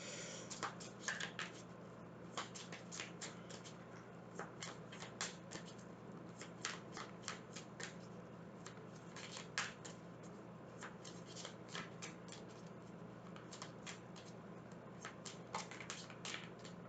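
A tarot card deck is shuffled and handled close by, with soft repeated riffling and light card taps at an irregular pace, quiet and without talking.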